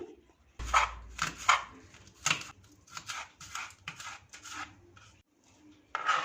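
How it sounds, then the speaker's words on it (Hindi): A knife repeatedly slicing through two green onions on a cutting board, a series of crisp, close chopping taps in an irregular rhythm with brief pauses. "2 हरी प्याज को सेंटर से कट कर लेंगे"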